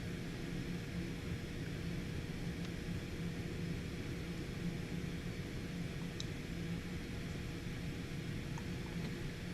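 Cessna Citation X jet taxiing in a flight simulator game, a steady low engine rumble and broadband whine holding evenly throughout, quiet and continuous with no voices.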